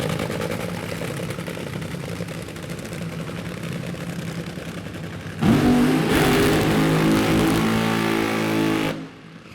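Twin turbo pro mod drag race car, a low idling rumble at a distance that suddenly swells into a loud, harsh full-throttle roar for several seconds before dropping away.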